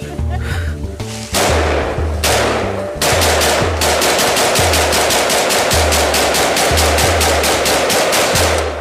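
Gunfire ringing out in loud, regular bursts of sharp rapid shots, separated by brief pauses, with a faint voice at the start.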